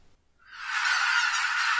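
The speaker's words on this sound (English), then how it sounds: "here you can hear this absolute cacophony of geese flying overhead" A large flock of geese flies overhead to roost at a big lake on Japan's southern islands, rising into a dense, loud, continuous cacophony of overlapping honks that swells and holds without talk.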